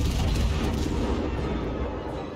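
Naval gunfire hitting a battleship in World of Warships, a loud, dense rumble of shells and booms that fills the whole short clip with no pause.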